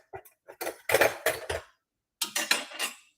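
Metal kitchen utensils clink and clatter in a home kitchen as they are gathered up for frying, a quick run of clustered handling sounds, a short pause, then another burst of rattling, close and moderately loud.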